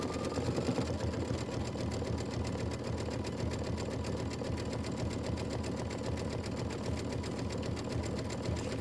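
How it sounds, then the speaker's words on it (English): Steady, rapid mechanical chatter of a sewing machine stitching quilt blocks for a tiling scene, running continuously and evenly at close range with no pauses. "Just go through and we're just going to be stitching."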